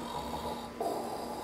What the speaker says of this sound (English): They're actually taking a nap right now and they both snore.